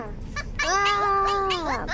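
A cat meows in a drawn-out, rising and falling call, preceded by a couple of shorter faint mews, fairly close and loud.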